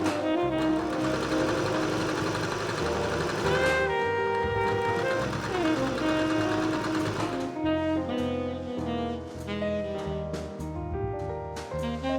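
A sewing machine hums and stitches steadily through fabric ties, its rapid mechanical chatter continuous and close under a layer of background music, no voices heard.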